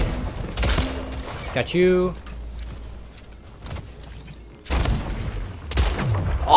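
Gunfire from the Splitgate video game comes in short loud bursts, a cluster early on and heavier volleys near the end, mixed with game effects while a player talks over the action.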